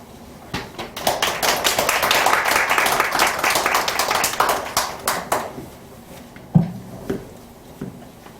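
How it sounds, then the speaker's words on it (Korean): A lecture audience claps to welcome a professor, building into a moderate round of applause that thins to scattered individual claps and a few thumps before quieting. "우리 교수님 나오실 때 박수로 환영하겠습니다."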